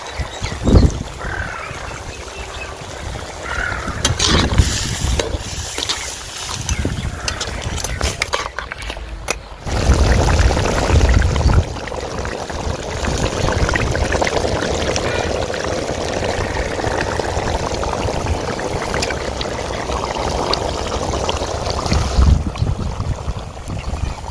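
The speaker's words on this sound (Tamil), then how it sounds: "நல்லா கொதிச்சிட்டு இருக்கு." Crab curry gravy boils in a pot, giving a continuous bubbling, gurgling simmer with occasional clinks of utensils, close and steady throughout.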